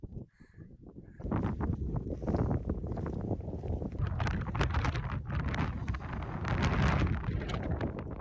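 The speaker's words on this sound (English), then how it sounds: "The second we got over this wall, the wind opened up so badly." Strong, gusty 50 mph wind on the Striding Edge ridge of Helvellyn in the Lake District, a loud, continuous roaring buffet against the microphone that swells and surges after a brief quieter start.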